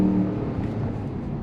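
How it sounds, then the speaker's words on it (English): A 2023 Ram 1500 Warlock pickup's engine pulls hard at full throttle, a steady, loud low-pitched roar heard from inside the cab with no talking. "It really sounds good when you decide to floor this thing"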